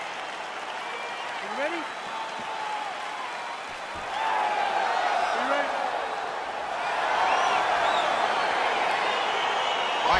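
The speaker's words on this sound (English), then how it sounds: "crowd getting excited as this fight gets underway" A crowd roars and applauds in an EA Sports UFC video game arena as a fight begins, the cheering swelling in waves beneath an announcer's voice.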